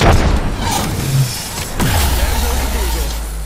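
A frag grenade detonates in a shooter game, producing a heavy, loud boom with a deep rumbling tail that lingers under ongoing gameplay noise and a faint voice.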